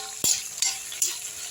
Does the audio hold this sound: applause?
no